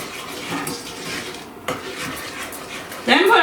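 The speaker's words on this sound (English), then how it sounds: "You're going to keep stirring it till all the sugar is melted." A spoon scrapes and knocks inside a pot as melting sugar is stirred on a home kitchen stove, with faint clinks of cookware and a louder metallic clatter near the end.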